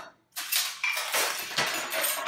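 Salmon portions set down on a metal baking sheet, giving a few light metallic clinks and scrapes against quiet background, close and soft.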